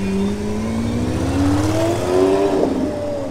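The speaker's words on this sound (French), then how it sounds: "Alors ici je crois bien que c'est un V12 Lamborghini qui arrive." A Lamborghini V12 engine arriving outside the Grimaldi Forum at Top Marques Monaco 2023: a close, steady low engine drone whose pitch climbs gradually, with no talk.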